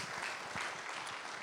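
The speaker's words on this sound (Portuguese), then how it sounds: "Então bate as palmas bem forte para Jesus." A small church congregation claps hands in worship, faint, distant-sounding applause with soft irregular hand strikes, briefly.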